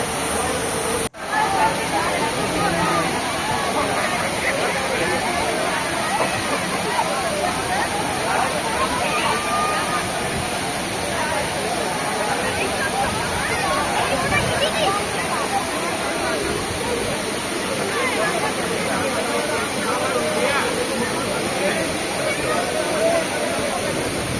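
Dudhsagar waterfall in Goa roars steadily throughout, a dense close wash of rushing water with no pauses, and faint crowd voices are mixed into the roar.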